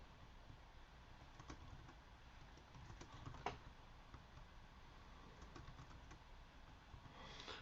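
Quick, light keystrokes tapped on a computer keyboard while a short message is written, a faint, irregular patter of clicks close to the microphone with no talking.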